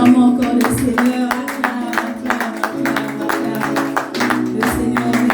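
A church congregation claps along, with sharp, fairly quick claps over a sustained musical tone and some voices, loud and close throughout the short stretch.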